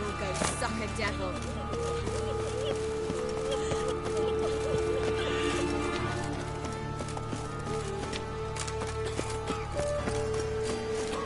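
Roach the horse galloping in The Witcher 3, with a steady stream of rhythmic hoofbeats running throughout under background music and ambient game sound.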